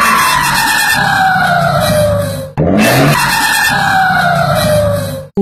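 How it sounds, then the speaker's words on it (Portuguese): Small motorcycle with a whiny, squealing exhaust pitch that glides steadily downward, cut off briefly before a second identical descending squeal, loud and close with no talk. "aponta na estrada do sítio, com aquele piado de escapamento no meio do mundo"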